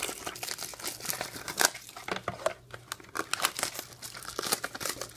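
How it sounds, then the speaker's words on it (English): Rustling and crinkling of foil wrappers as packs of 2013 Topps Museum Collection football cards are cut open, with scissor snips and tearing heard in dense, close bursts and brief speech underneath. "what I'll do to speed up some time is cut all these open at the same time"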